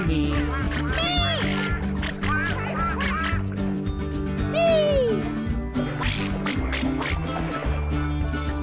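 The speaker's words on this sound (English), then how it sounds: "Quacky birds fly over the sea." Cartoon ducks quack in the Twirlywoos children's show, in bright, repeated calls over a busy musical backing, close and lively, with one long honking call in the middle.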